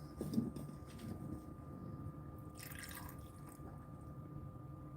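Water trickles and drips into a pot at close range as a shallow layer, about a quarter inch, is added for steaming kabocha squash; the pour is faint and brief.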